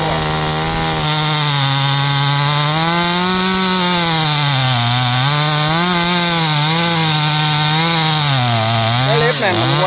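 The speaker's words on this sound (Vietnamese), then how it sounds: "Rồi chúng mình bắt đầu chuẩn bị cưa nha các bạn." A chainsaw cuts into a huge rain tree outdoors. The engine whines loudly and close throughout, its pitch wavering steadily as the chain bites into the wood.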